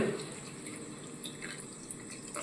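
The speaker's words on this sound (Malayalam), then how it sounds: "അത്രയും വെള്ളം നമുക്ക് അതിലേക്കൊന്ന് ഒഴിക്കണം" Water poured into a pan of curry seasoned with garam masala and pepper powder, a steady rushing splash held close and loud for the whole stretch.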